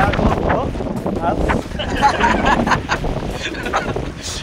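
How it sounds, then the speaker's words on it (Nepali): Strong gusty wind on the Sandakphu trek in Nepal buffets the microphone, a steady roaring rush throughout with a voice faintly audible underneath. "लु हावा चाहिँ डरलाग्दो चल्दैछ है।"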